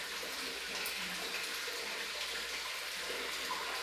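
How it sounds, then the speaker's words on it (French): Water rushes steadily out of a shower head and its pipe column as the column drains, a continuous broadband hiss with no pauses, close and fairly loud. "l'eau qui était dans la colonne va partir"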